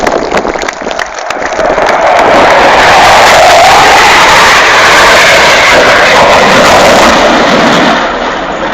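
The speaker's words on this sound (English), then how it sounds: "The aircraft will now run in at high speed from the right for a formation departure." A formation of Tornado GR4 jets makes a high-speed pass at the RAF Waddington air show, a very loud roaring jet-engine rush that swells and sweeps past before easing, with crowd noise faintly underneath.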